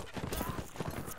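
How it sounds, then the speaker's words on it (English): Horse hooves clip-clop in Mount and Blade Warband as horses close in during a battle, a quick uneven patter of hoofbeats in a faint game mix with a voice speaking over it. "These horses are surrounding me."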